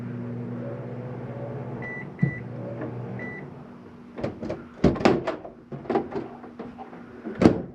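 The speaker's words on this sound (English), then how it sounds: "You have a self-explanatory microwave." A microwave oven in a 2009 Bighorn 3370RL RV hums steadily with a few beeps, then a series of sharp thunks and clicks from its door and nearby cabinets follow.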